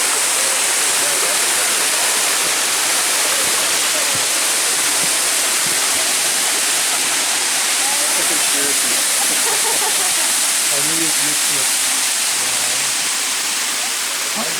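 Waterfall at Eternal Flame Falls in Chestnut Ridge Park running with plenty of water in winter, a loud, steady, broadband rushing roar that fills the whole scene without a break.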